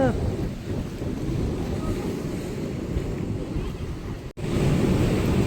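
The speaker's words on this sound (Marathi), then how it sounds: "मग त्या लाटा लाटांचं उधाण आलेलं आहे भरती चालू झाले" Continuous rushing surf of sea waves surging at high tide on the coast at Harihareshwar, with a heavy low roar and wind buffeting the microphone, broad and unbroken, with a brief dropout near the end.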